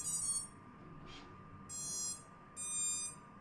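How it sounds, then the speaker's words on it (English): Three short bursts of high electronic beeps from an FPV drone's ESC and flight controller at startup, separated by brief gaps and a faint chirp, quiet and alone. "the first set of beeps is the ESC, and the second is the flight controller"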